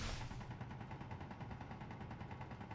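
Rapid automatic gunfire in the space-building game Space Engineers rattles on as a steady, fast stream of muffled shots, quiet and unbroken for the whole stretch.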